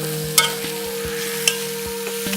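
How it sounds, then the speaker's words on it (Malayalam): A spoon stirs a beef green-pepper roast masala with onion and green chilli in a hot pan, giving regular scraping strokes about twice a second over a steady low sizzle. "ഇത് നന്നായിട്ടൊന്ന് ഇളക്കി കൊടുക്കാം."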